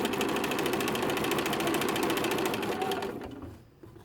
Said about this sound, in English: line up the next piece and put that one through. So it's just continually stitching.